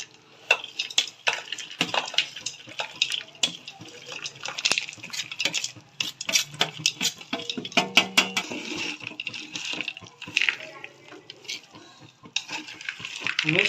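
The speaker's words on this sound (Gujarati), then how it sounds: "બધા કાજુ બદામ નાખી દેવાના છે ને એને મોટી ડીશમાં કાઢ્યા હતા આપણે." Fried cashews and almonds being stirred into a pan of khajur pak, close irregular spoon scrapes, clinks and knocks against the pot, loud in bursts with short pauses and no talk.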